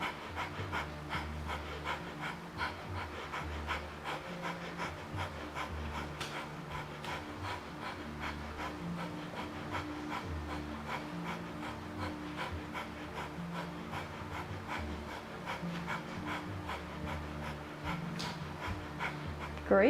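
Fast, rhythmic breath-of-fire panting during a kundalini yoga plank with one leg raised, a steady stream of quick huffs carrying on for the whole stretch alongside a faint instructing voice.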